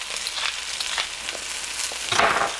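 Shrimp sizzling and being stirred in a hot pan for salt and pepper shrimp, a steady fry hiss with soft scraping strokes and a louder burst of sizzle near the end.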